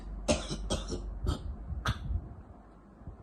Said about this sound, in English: Inhale and cough for me, please.